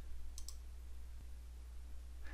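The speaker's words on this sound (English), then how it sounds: "Go ahead and click OK" A few light computer mouse clicks on an OK button in drafting software, two quick clicks near the start and a faint one later, soft and close over a steady low hum.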